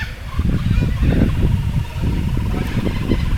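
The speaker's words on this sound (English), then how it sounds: "Listen to the birds." Birds call and chatter outdoors by the Murray River at Echuca, over a steady low rumble, with several short calls rising and falling across a busy, moderately loud background.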